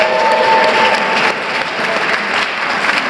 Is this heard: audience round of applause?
yes